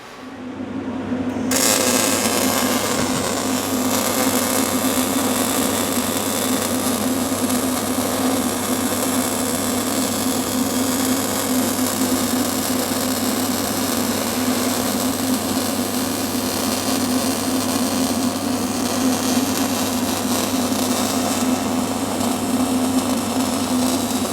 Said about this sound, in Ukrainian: Ну що, почнемо зварювати трохи.